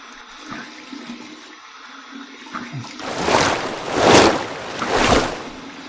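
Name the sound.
cold water rinse of face after shaving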